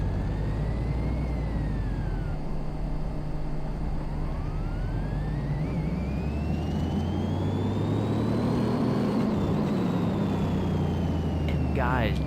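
A Ford Mustang Mach 1 making over 1,000 horsepower is revved hard during a power test. The engine is loud and continuous, with whining tones that climb, drop and climb again.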